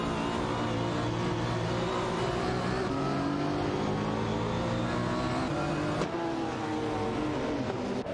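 McLaren F1 GT and Ferrari F40 LM race car engines in a racing game, a continuous loud snarling drone with rising and shifting pitch as the cars accelerate and change gear.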